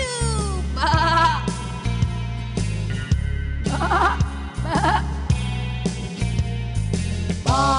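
Cartoon black sheep bleating in an animated children's nursery-rhyme story, several wavering bleats repeated over a loud, steady music backing.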